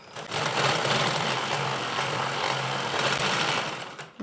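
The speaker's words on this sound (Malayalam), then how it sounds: "സൈഡ് വശം നമ്മൾ ഇതുപോലെ ഒന്ന് ചേർത്ത് വെച്ചിട്ടൊന്ന് സ്റ്റിച്ച് ചെയ്ത് കൊടുക്കാം" A sewing machine stitches the side seam of a cloth lunch bag, a loud continuous buzzing whir running nearly four seconds after a brief quiet start.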